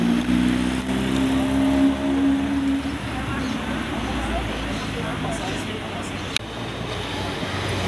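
A Mercedes GLS drives past on a busy square in Curitiba, its engine hum strong at first and fading as it goes, over a steady wash of outdoor traffic and crowd noise.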